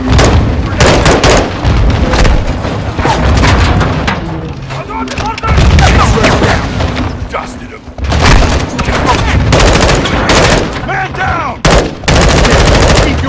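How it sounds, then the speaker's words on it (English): Heavy battlefield combat in Modern Warfare 2: loud repeated explosions and bursts of automatic gunfire pound almost continuously, with booming grenade blasts and brief lulls where shouted voices come through. "Incoming! Infantry cover! They're launching grenades!"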